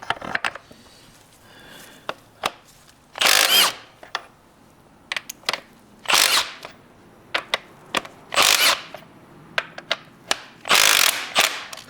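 An impact power tool with a deep socket spins off a 17mm bolt on the motor mount of a 2017-2020 Hyundai Elantra, in loud, repeated bursts of whirring and rattling with ratchet clicks between them, close up and without talk.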